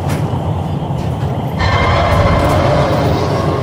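A train rumbles along in the Crysis Warhead video game, a low rolling drone that grows louder midway as brighter mechanical clatter and rail noise join in, close and continuous.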